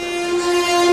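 A passenger train is on the move in India. A loud, steady tonal hum holds close and continuous throughout the brief moment, with no voices over it.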